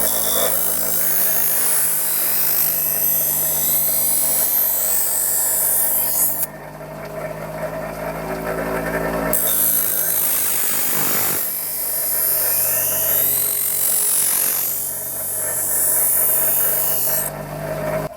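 Kitchen knife being sharpened: a continuous close grinding rasp with a steady whir, a few shifts in pitch and pressure, and a brief drop partway through, with no talk.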